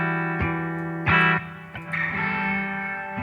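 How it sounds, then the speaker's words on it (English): A processed tone run through the Wave Alchemy MAGIC7 reverb plugin, with long, washy reverb tails ringing out after each of several struck notes, the space effect clearly audible with no voices. "So that's just the reverb sound."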